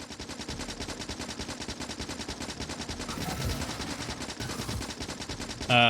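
Rapid automatic gunfire from a character firing at an enemy nest in the video game Factorio, a dense rattling stream of shots repeating steadily and evenly throughout, fairly quiet and without a break.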